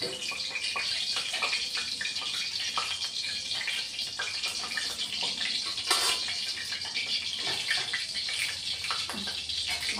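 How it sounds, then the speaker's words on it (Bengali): Hot water poured off from a pan into a kitchen sink while cooking a pabda fish curry, a steady continuous gushing splash running close and fairly loud for the whole stretch. "গরম জলটা ফেলে দিলাম।"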